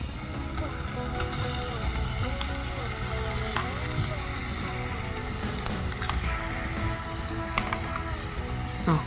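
Prawns frying in a pan for prawn pasta, a continuous loud sizzle and crackle with occasional clicks and scrapes of stirring, no talking.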